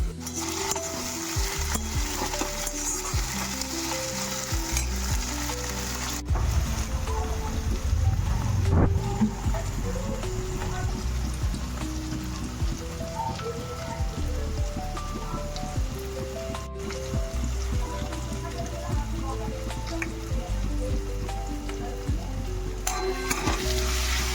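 Masala of red chili powder and cumin powder frying in a pan, a steady close sizzle with stirring scrapes throughout, slightly louder in the middle, with no one talking.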